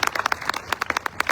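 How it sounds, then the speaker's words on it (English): Applause at an Alamo commemoration event honoring foundation donors: a few distinct claps in an uneven rhythm, fairly close and crisp, with brief gaps between the bursts. "let's give them all a huge round of applause"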